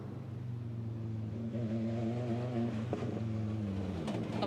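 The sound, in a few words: Audi five-cylinder Dakar rally car driving in forest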